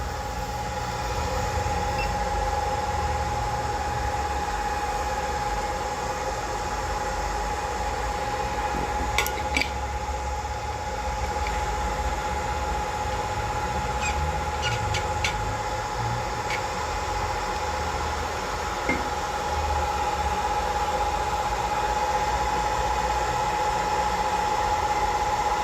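A hot air rework station blows on an IC to remove it from a dead Sansui LED TV board, producing a continuous loud hiss of airflow with a faint steady whine and a few small clicks.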